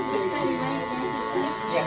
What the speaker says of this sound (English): they still make that sound when it comes to cutting the hair